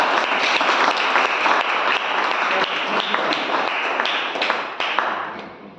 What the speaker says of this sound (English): So please clap for them.